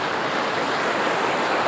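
Floodwater rushes across a village road in Hojai, Assam, a loud, steady roar of churning water close by, with no voices over it.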